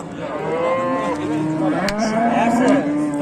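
A cow at a livestock market moos loudly and close by in a long wavering call that swells toward the end, with a brief knock partway through and faint market murmur behind.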